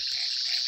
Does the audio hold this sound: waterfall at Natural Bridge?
no